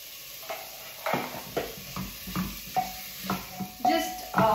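Chicken stirred and roasted in a pan for a biryani, with a series of scraping, clattering strokes of a spoon against the pan over a soft background sizzle, fairly close and moderately loud.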